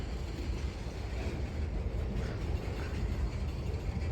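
Norfolk Southern freight train moving in the Sharonville rail yard gives a continuous low rumbling drone, distant and moderately quiet, with faint mechanical texture and no talking.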